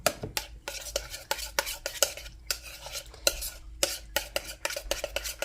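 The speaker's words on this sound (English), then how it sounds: "And now we mix." Deviled egg filling being mixed in a bowl, with repeated rhythmic scraping and clinking of a utensil against the bowl, close and fairly loud, no voices.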